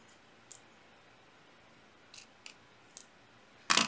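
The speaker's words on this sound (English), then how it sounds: "We're just going to trim that off." Scissors trimming paper for a stained glass layout: a few sharp, isolated snips spaced irregularly, then a louder final cut, close and crisp against a quiet room.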